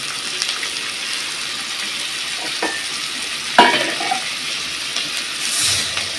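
Tomato frying in a pan with garlic and ginger paste, a steady sizzle broken by a few stirring scrapes and one sharper clatter of the spoon near the middle.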